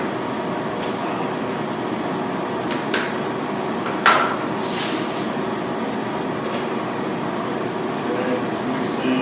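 A stand mixer kneads bread dough in a steady, continuous whir with faint background noise and a few sharp knocks, and it keeps running for the full stretch.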